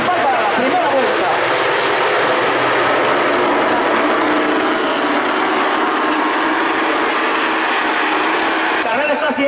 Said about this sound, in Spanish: El tractor camión número 44 que va de regreso al ataque.